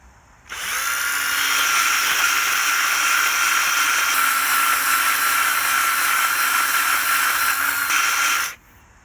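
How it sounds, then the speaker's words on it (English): A drill whirs loudly at a steady pitch for about eight seconds, starting and stopping abruptly, with a bright hissing grind as a ball hone spins inside the cylinders of a 5.9 engine block being stroked to 408. "you start the drill and you push it in while it's rotating"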